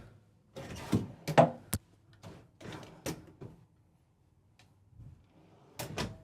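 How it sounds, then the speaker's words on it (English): Several drawers in a Newmar King Aire motorhome slide open and shut with soft knocks and clunks, close by, spaced irregularly with quiet gaps between. "I'll go ahead and open up these storage compartments for the drawers"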